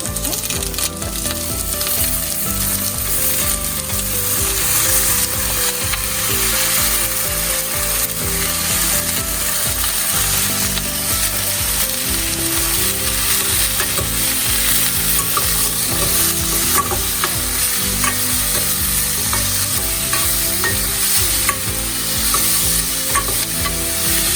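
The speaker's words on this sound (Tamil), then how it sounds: "சின்ன வெங்காயம் லேசாக வதங்கினோடனே வெட்டி வச்சிருக்கிற பட்டர்நட்" Chopped butternut squash fries with small shallots in a pan for a Tamil pumpkin groundnut curry, with a loud, continuous sizzle and steady stirring clatter close by. No voices are heard.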